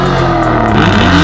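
An Aston Martin engine revs loud and close in a steady, sustained roar with no voices over it.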